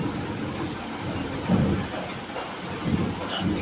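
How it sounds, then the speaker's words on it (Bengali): Gusty wind with the onset of rain at a home, a broad steady roar with a few louder surges, close and continuous throughout. "বৃষ্টি শুরু হয়ে গেছে"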